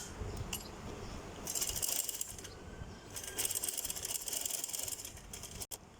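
A sewing machine stitches a pintuck in folded fabric, running in two bursts of quiet rapid mechanical whirring and clatter separated by brief pauses, ending with a sharp click.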